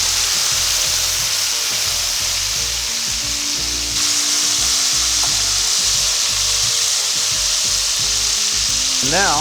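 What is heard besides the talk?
shrimp sizzling as they fry in a pan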